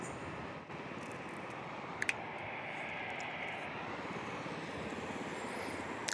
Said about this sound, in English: As this next Southwest 737 taking off.